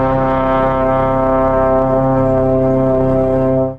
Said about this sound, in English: That's during the grand, evocative brass chorus representing the American dream, László's ambition